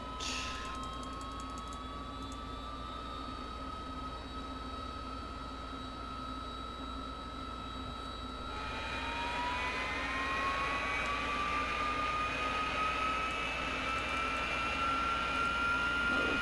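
Harrier jet taxiing in the DCS flight simulator, a constant whining turbine hum with tones that rise and grow louder partway through, continuous and steady with no talking.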